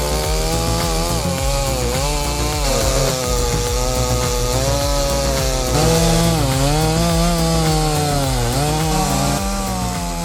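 A Stihl MS066 chainsaw cuts through a 60 cm diameter pine log, its engine screaming steadily and close, with the pitch wavering as the bar bites into the wood, continuous for about ten seconds.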